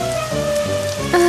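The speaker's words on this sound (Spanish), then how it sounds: "¡Ya! ¡Lluvia!" Cartoon rain falls in an animated mermaid scene, a brief patter of drops mixed with tonal musical sound effects, with a sharp accent near the end.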